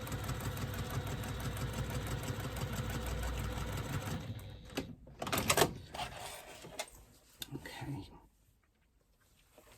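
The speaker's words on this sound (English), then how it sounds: "I'm just going to back stitch at the beginning to ensure that they're nice and secure." A sewing machine runs steadily for about four seconds while back stitching bag lining seams, close and fairly quiet, then stops; fabric rustles and handling noises follow before near silence.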